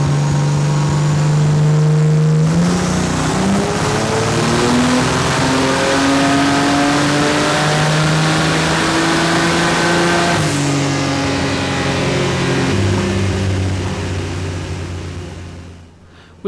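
One-of-a-kind race car on a dyno during a pull, its engine loud and close, revving up through climbing pitch and easing back, sustained for over fifteen seconds before cutting off abruptly.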